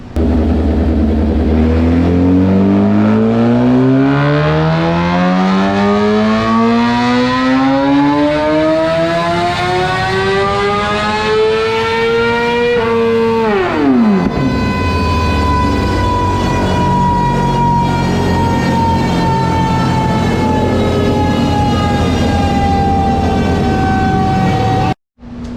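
A Suzuki GSXR 750 fitted with a TOCE exhaust revs on a dyno, its engine note climbing in one long, loud pull to a peak and then dropping sharply to a steady high drone before cutting off.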